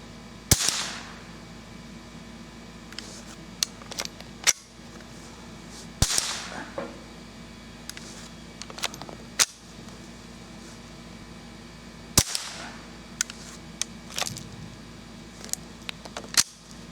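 A .22 rifle firing CCI .22 Quiet ammunition outdoors produces several sharp, subdued cracks spaced a few seconds apart, with lighter mechanical clicks of handling and cycling in between.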